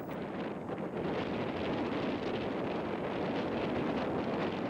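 Strong wind roars across an open desert landscape, a dense, continuous rushing buffet with gusty surges, loud and close throughout with no voices.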